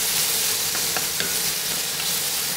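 Chopped tomato sautés in a hot pan for a soup, a steady close sizzle and frying hiss with a few soft stirring scrapes, no voices.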